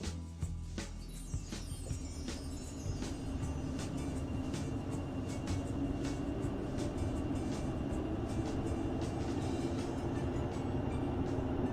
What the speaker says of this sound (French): Le métro.